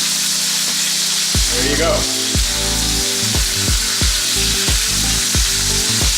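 A NY strip steak sears on its side in a hot pan, giving a loud, constant sizzle with a run of regular scraping pulses, and a voice speaks briefly over it.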